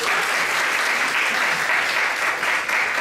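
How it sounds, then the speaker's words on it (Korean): Dense, steady applause from an audience at a church recovery-festival seminar in Ho Chi Minh City, loud and continuous throughout with no pause. "박수 한번 주세요"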